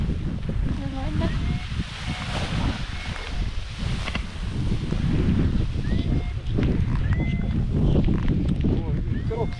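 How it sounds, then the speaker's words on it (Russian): Strong wind during a tandem paraglider landing buffets the microphone with a continuous roaring rumble, gusting louder toward the end, while voices talk faintly underneath. "Ну, ветерок сильный, вот поэтому при сильном ветре опасно"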